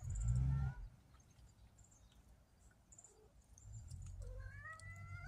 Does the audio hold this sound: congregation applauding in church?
no